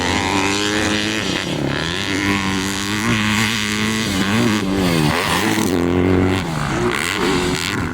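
2025 Yamaha YZ250F motocross bikes riding on a track, loud buzzing four-stroke engines revving up and down in quick swells, close and continuous throughout without talk.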